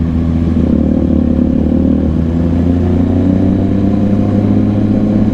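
A motorcycle engine runs loud and close with a steady, rumbling drone and slight clatter, and no voices over it.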